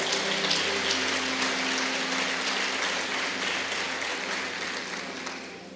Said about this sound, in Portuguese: dê um aplauso ao Senhor mais uma vez